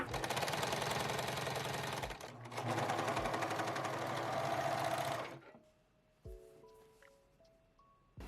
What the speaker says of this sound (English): serge the edges and then attach the sleeve to the bodice